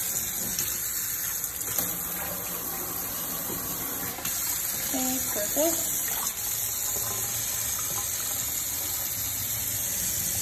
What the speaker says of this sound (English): But the water still works,